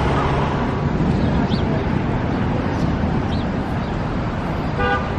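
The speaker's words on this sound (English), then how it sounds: "Why are they honking?" Car horns sound over steady city traffic noise at a Philadelphia street scene, with a short, clear honk near the end and voices murmuring underneath.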